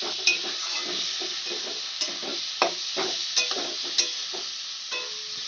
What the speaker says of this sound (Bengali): এবার সবগুলো মশলা আমি একসঙ্গে মিশিয়ে নেব